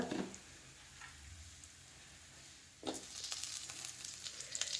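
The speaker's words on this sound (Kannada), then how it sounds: "ಕಾಯಿ ಮುಂಚಿ ಪಾಡ್ದು ಎಡ್ಡೆ ಮಂಚ ಫ್ರೈ ಮಾಡಿ" Red chilies frying in a pan for pepper garlic tomato rasam, a soft sizzle that swells into a louder crackling fry partway through, close and steady with no talking.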